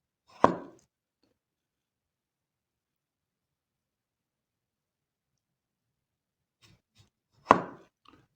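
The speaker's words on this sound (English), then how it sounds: "So I can get some wafer thin vegetable slices here." A sharp chef's knife slices vegetables wafer thin on a cutting board, giving two crisp, isolated chops several seconds apart with near silence between them.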